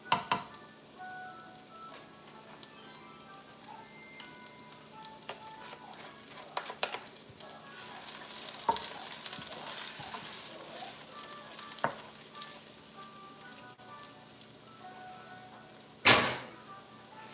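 Vegetables for stewed oxtails fry in a pot with a steady low sizzle, broken by scattered clinks and scrapes as they are stirred. A sharper clatter comes near the end.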